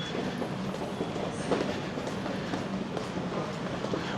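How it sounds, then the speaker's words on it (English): A Sydney double-decker city train leaving Leppington Station for the city rumbles steadily throughout, a close, continuous interior roar with faint clatter and no talk. "We're just going to get this train into the city."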